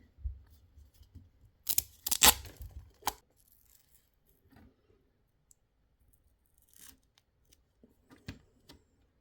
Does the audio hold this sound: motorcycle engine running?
no